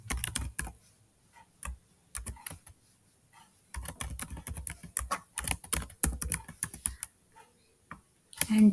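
Keystrokes on a computer keyboard, typed in quick irregular bursts separated by brief pauses, close and clear with no voice over them.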